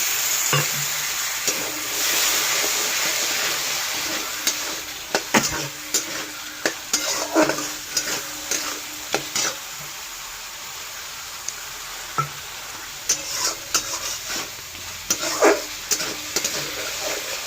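Masala fries in hot oil after a splash of water, a loud steady sizzle with intermittent scraping and stirring of a spoon against the pan, up close.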